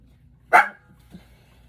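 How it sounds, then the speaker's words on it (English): A single sharp dog bark rings out close by in a quiet room, followed by a faint brief whimper. "that's if the dog's gonna keep going"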